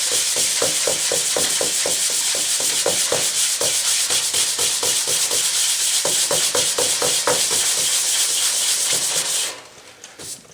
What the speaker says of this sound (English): You want to lay it flat and start sanding.